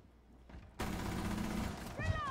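Gunfire in the video game Rainbow Six Siege: a sudden loud burst of rapid shots that rattles on for over a second, followed by a few brief whistling electronic tones.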